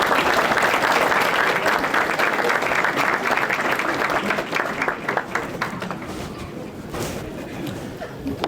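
Dense applause from a seated crowd at the Chester People's Ball gala, loud at first, then thinning and fading over several seconds into scattered clapping.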